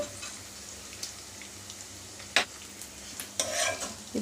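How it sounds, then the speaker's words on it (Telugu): Thinly sliced onions with green chillies lightly frying in a pan for jeera rice, with a soft sizzle and a few sharp spatula scrapes and taps against the pan, heard close and fairly quiet. "బాగా ఎర్రగా ఫ్రై అవ్వాల్సిన అవసరం ఏం లేదు కొంచెం కచ్చా బచ్చాగా ఫ్రై అయితే సరిపోతుంది"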